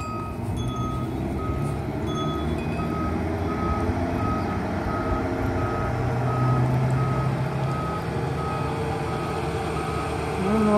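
A truck reverses with steady, repeating backup beeps at a road slurry seal job, the alarm pulsing evenly over a continuous engine rumble and roadwork noise.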